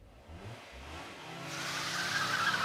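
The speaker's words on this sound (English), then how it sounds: "Sounds like cars." A car engine rises and accelerates, starting faint and swelling louder over a couple of seconds, with a whine and hints of tire noise near the end.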